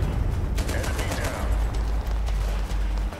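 Rapid bursts of gunfire and blasts from a war strategy video game battle, loud and dense with a heavy low rumble throughout the short stretch.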